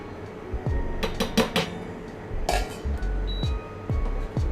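A saucepan is handled on the stove while butter and wheat flour go in, bringing a few close metallic clinks and knocks of pan and utensil, irregularly spaced, with no talking.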